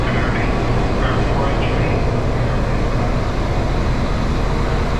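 A diesel locomotive rumbles steadily nearby at an Irish railway station platform with a low, constant drone, while someone talks over it.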